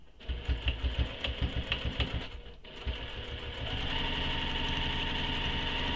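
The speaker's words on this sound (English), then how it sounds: "So now you can sew a pen slot here if you want." A sewing machine stitches a pen slot onto a handmade squoval bag, starting with a rapid run of close, pulsing stitches, then a brief pause before settling into a steady, continuous mechanical hum.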